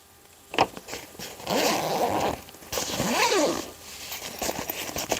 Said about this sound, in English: We'll go ahead and zip this one up.